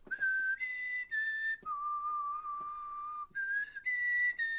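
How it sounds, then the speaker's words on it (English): A whistled four-note Mockingjay call from The Hunger Games, clear and close, with rising and falling tones and a long held middle note, repeated once, with no talking. "That whistle is from Mockingbird."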